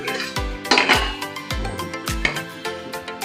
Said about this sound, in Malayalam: ഇനി കപ്പയും കൂടെ ചേർത്ത് കൊടുക്കാം.